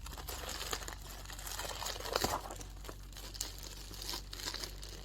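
Strong tape being pulled and torn while unpacking Rallyflapz mud flaps for a Corsa VXR: close, crinkly crackling with a sharper rip around the middle, steady at low level with no talking.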